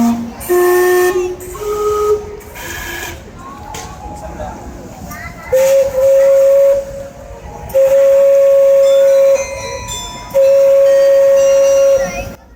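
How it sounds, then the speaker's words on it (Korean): A steam clock in Otaru, Japan, sounds its steam whistle in several sustained tones, repeating with pauses, over busy outdoor crowd noise and chatter, with a chugging hiss in between. "매시 정각이 되면은 저렇게 칙칙폭폭 하면서 소리가 나요."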